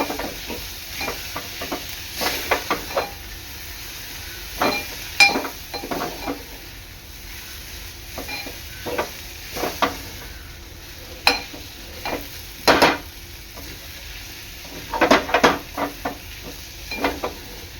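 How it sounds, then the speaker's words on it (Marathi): Boiled cluster beans stirred with masala in a pan for a Maharashtrian dry bhaji: soft frying hiss under repeated spoon scrapes and clinks against the metal, irregular and close. "गवार चांगली मिक्स करून घ्यायची आहे"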